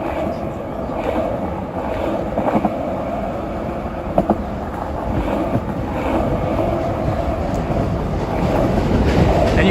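A New York subway train rumbles across the Manhattan Bridge at night, a continuous low roar with faint rattling clicks and wind buffeting the microphone, steady and fairly loud throughout.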